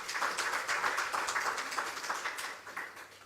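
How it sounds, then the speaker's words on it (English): A panel discussion audience claps for the panelists, a short, fairly faint burst of scattered applause that tapers off toward the end. "give Amanda, Elsworth, and Handy a big round of applause"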